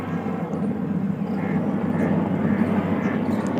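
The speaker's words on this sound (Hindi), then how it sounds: "फौजियों का हेलीकॉप्टर है, फौजी जा रहे हैं।" A steady low rotor and engine drone fills the air, a military helicopter passing at a distance with a constant rumbling throb.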